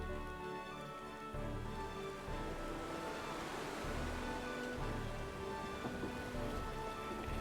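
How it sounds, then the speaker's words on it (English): Heavy rain pours steadily in Final Fantasy XIV, a dense continuous hiss of drops on surfaces with a low rumbling undertone, loud and unbroken with no voices. "More like it's pouring almost."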